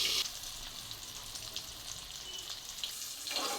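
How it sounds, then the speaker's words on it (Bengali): Tengra fish frying in oil in a pan, a continuous bright sizzle with spitting pops, close and moderately loud, briefly muffled as if covered before flaring again at the end, with no speech. "মাছ সবসময় ঢেকে ঢেকে করবেন, কারণ কি এগুলো ভীষণ ফোটে ট্যাংরা মাছ।"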